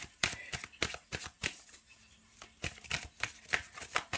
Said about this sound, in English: So I want to start with just pulling some tarot cards here.